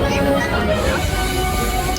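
A train at the Silver Dollar City theme park rolls past loud and close, giving a steady, dense rumble throughout, with a faint murmur of voices mixed in.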